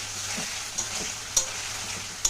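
Dried chili spice paste sizzles steadily in a pan, a continuous bright frying hiss with a few sharp pops and spatters standing out, no voices.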